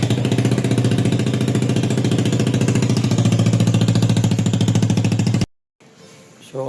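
A Yamaha Aerox v2 scooter fitted with a Zeus Apollo v3 exhaust pipe and silencer idles loud and close, a rapid steady throbbing putter running for over five seconds before cutting off abruptly.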